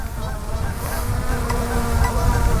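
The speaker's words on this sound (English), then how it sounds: "oh, there's the geese. They're not happy with me." Geese honk repeatedly and loudly against a steady drone hum outdoors, calling continuously throughout in agitated overlapping bursts.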